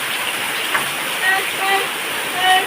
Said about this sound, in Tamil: இந்த பக்கத்தை சாரல் சாரதி சரியான மழை கொட்டு கொண்டு கொட்டுதுப்பா